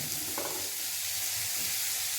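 Already-boiled corn fries in a small amount of hot oil, giving a continuous close sizzle with a few soft stirring scrapes and no voices.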